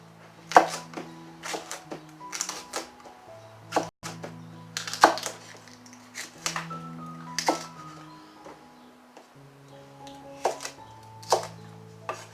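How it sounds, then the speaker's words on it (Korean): Chili peppers sliced one by one with a knife on a cutting board, giving sharp, irregular chopping thuds and clicks over quiet background tones, no voices. "고추도 이렇게 4개를 준비했는데 우선 하나씩 썰어서"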